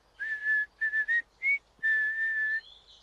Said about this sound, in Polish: A mnie się podoba twoje gwizdanie.